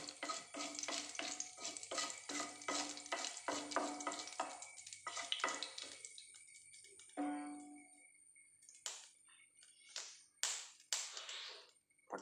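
Mustard seeds crackle and pop in hot oil in a home kitchen pan while a dish of colocasia stems is cooked, with a dense sizzle early, then sparse sharp pops and taps thinning out toward the end.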